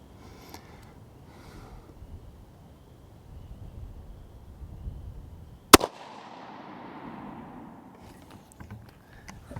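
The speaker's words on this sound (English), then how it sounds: "Let's go 3 shots." A single loud, sharp report from a Henry single-shot rifle cracks out once, and a faint echo trails off outdoors amid quiet background noise.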